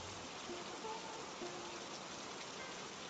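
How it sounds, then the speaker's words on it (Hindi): Steady, dense rain pours down without a break, a loud continuous wash of drops hitting surfaces nearby. "बाहर अब भी तेज बारिश हो रही थी।"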